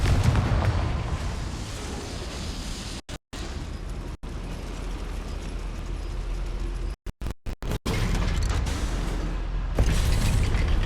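A Confringo fire spell blasts inside a goblin mine in Hogwarts Legacy, a loud, dense rumbling explosion with booming bursts and sharp cutouts, sustained at close range with no talking.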